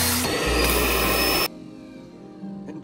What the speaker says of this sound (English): And then turn the vacuum pump on.